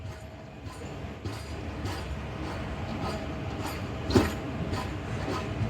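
Karachi Express passenger train rolling onward after pulling out of Chichawatni station, heard from inside as a steady low rumble with regular clickety-clack of wheels over rail joints and a brief squeal, no talking.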